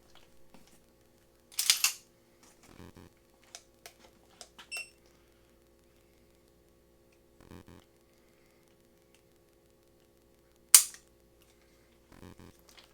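A firearm trigger breaking on a roughly six-pound pull during a trigger pull gauge test, with a couple of sharp, dry clicks well apart, close and fairly quiet, among small handling taps with no talking.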